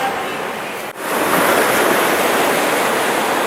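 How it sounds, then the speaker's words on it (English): Ocean surf crashes and roars on the coast of Peru, a loud, close, continuous wash of breaking waves with wind noise, briefly dipping before surging again. "crashing waves here"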